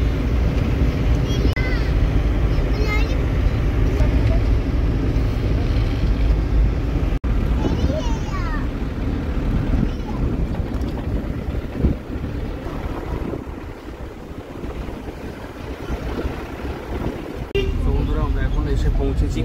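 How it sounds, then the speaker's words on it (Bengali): A shared car climbs the hill road toward Kurseong with a loud, steady engine rumble and buffeting wind noise throughout, while voices murmur faintly in the background. "শেয়ার গাড়ি করে এখন যাচ্ছি"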